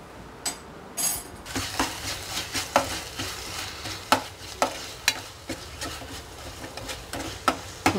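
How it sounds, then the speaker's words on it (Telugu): A spoon works through pumpkin halwa in a pan to mix in a pinch of food colour, producing a rhythmic series of close scraping strokes roughly every half second over a soft sizzle, with a few light metallic clinks. "ఫుడ్ కలర్ కూడా కలిసేలా తిప్పుకుంటున్నాను"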